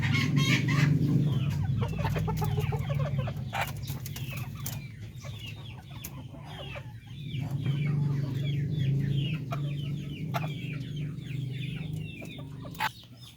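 Darag native chickens cluck steadily and close by, a hen's repeated clucks running through the whole stretch with a few sharp higher calls, no talk over them.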